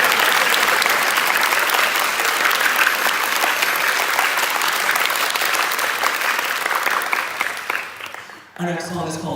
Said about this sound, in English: Big round of applause for the Golden Stand.